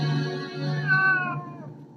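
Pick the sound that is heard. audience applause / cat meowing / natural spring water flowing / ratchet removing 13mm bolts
cat meowing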